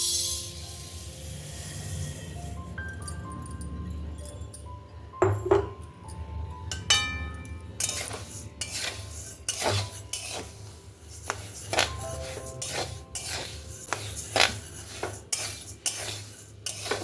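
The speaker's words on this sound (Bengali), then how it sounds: "নাড়তে নাড়তে যখনই এরকম পুটপুট করে আওয়াজ হবে, এই যে হচ্ছে" Dry moong or biuli dal roasting in a pan as a utensil stirs it: repeated scraping and metallic clinks, with scattered sharp ticks and pops, close and moderately loud, no voices.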